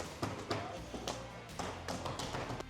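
A foot kicks interlocking plastic floor tiles into place during a large tile floor installation at Monash University, making a series of fairly regular, close hollow thuds and taps over a steady background hum.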